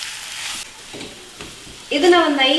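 Sweet potato mash cooking in ghee, a brief close sizzle and a few stirring scrapes, then a voice starts talking over the frying.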